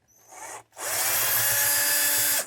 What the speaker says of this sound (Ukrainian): Беремо шуруповерт затискаємо отак от пальцем притул, щоб жорстко трималось, бо воно викручується.